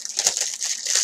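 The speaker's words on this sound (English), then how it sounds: "I will unwrap the book." Plastic packaging crinkles and crumples as a book is unwrapped, a close, continuous rustle with a few sharper crackles, no speech.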